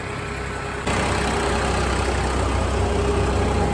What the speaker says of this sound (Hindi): घर आ चुका है भाई ट्रैक्टर।